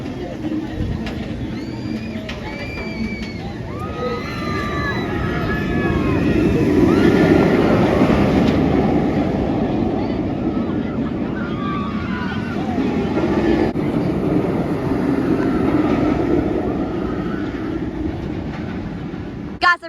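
Dominator roller coaster train at Kings Dominion roaring through its layout, a loud continuous rushing rumble that swells and fades with distant riders' screams and nearby voices talking.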